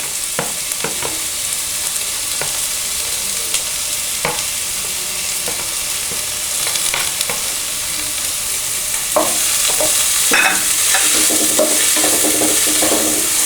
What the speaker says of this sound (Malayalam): ഇനി അതിലേക്ക് നമുക്ക് നമ്മൾ ചെറുതായി അരിഞ്ഞു വെച്ചിരിക്കുന്ന സവാള ഇടാം